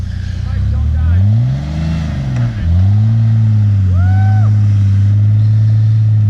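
Off-road 4x4 engine revving hard while towing a stuck vehicle with a bumper-mounted strap, a loud, close, droning engine note that rises and dips, with a brief higher whine near the end.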